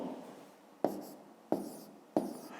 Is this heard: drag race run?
no